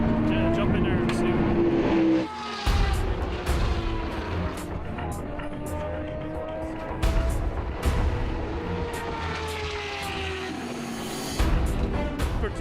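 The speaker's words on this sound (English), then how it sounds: "pounds round the track and gives the car a thorough shakedown" A race car lapping the track at Daytona during a shakedown, its engine roaring and droning with shifting pitch as it passes, loud throughout, with a voice talking over the noise.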